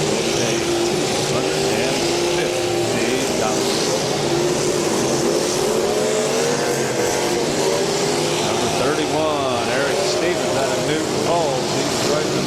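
Demolition derby cars at the Portage County derby roar and rev continuously across a crowded track, a loud, dense engine drone with rising and falling pitch, and a voice talking over a public address partway through.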